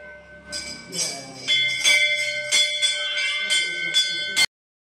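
A metal bell at a Shiva temple is struck repeatedly in quick, uneven succession, its bright ringing overlapping and sustaining close by before stopping suddenly.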